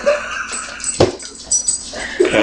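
Poncho, a small Chihuahua-type dog, whimpers and yips in short, close bursts, with faint household sounds between the cries.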